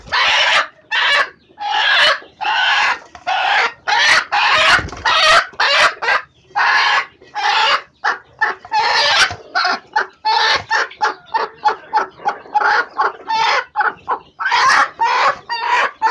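Several hens brooding on clutches of eggs cluck nearly nonstop at close range, a dense run of short, loud calls with a few longer squawks mixed in and no voices.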